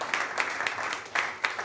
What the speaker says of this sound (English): I think we give a round of applause for all the team who have done a truly fantastic job